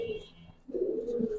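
Young Giribaz pigeons cooing close by, a low throaty burbling that softens briefly and then returns fuller and louder, with no talk over it.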